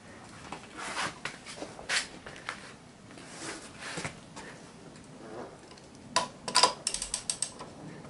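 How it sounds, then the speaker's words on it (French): A wrench tightens a wheel's bolts after the wheel is lowered to the ground: faint, scattered ratcheting clicks and small metallic knocks, with a brief louder clatter of clicks near the end and no talking. "on va poser la roue au sol pour serrer à fond"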